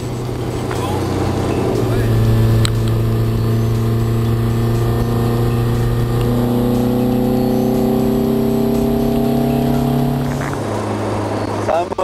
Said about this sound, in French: C'est un moteur.